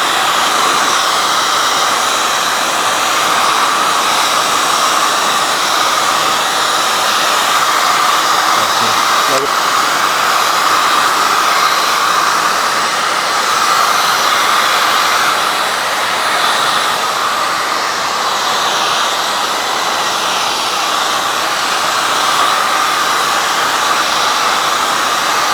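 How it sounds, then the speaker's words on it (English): Heat gun blowing hot air while vinyl wrap is worked around a car hood edge, a loud, steady hissing whoosh that runs unbroken throughout, close by and with no talking. "Apply a little heat while wrapping the edge."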